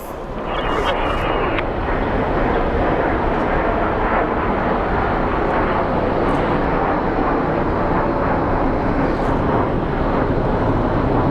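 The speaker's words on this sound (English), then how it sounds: "So let's watch this plane as it takes off." A Boeing 787 Dreamliner jet airliner takes off at Phoenix Sky Harbor International Airport with a loud, steady, broadband engine roar that fills the whole stretch without a break.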